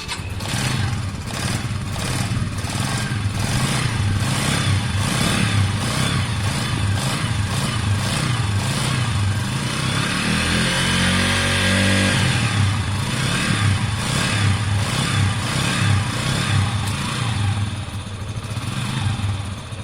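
The single-cylinder engine of a WK RT 125 motorcycle runs steadily with the choke on, a loud, close, rhythmic chugging idle that holds at an even pitch throughout.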